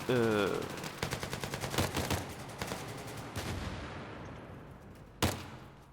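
Gunfire in the video game Battlefield 3 on the Operation Metro rush map: a rapid burst of automatic shots opens, followed by a quick string of pistol-like cracks and one loud isolated shot near the end, with faint game ambience between.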